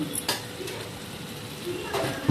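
Green chillies, coriander and mint sautéing in a pan, a soft continuous sizzle with occasional scrapes and clinks of a stirring spoon against the metal, fairly close.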